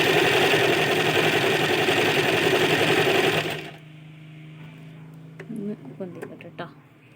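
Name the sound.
Usha Janome sewing machine stitching an embroidery design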